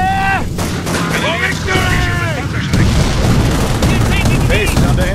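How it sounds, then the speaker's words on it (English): Artillery booms and gunfire rage in the Company of Heroes World War II game, set at the Falaise Pocket battle, with dense, continuous explosions and shots throughout, overlaid by loud synthetic voices and radio-like game chatter. "Based under enemy fire."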